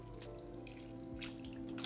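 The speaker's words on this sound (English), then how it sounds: "we'll take our watering can and we're going to pour quickly" Water pours quickly from a watering can into a fiddle leaf fig's potted soil, a steady close rushing splash without pause.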